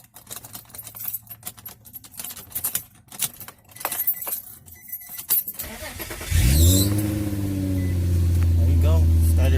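A 2006 Infiniti G35X AWD engine cranks and catches about two-thirds through, then settles into a steady, loud idle close by, after a stretch of clinking keys, handling noises and someone talking.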